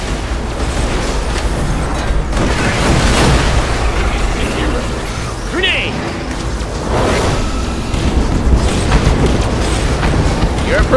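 In a final boss fight in Borderlands: The Pre-Sequel, a grenade explosion booms amid loud, dense combat noise, with voices talking over the chaotic mix.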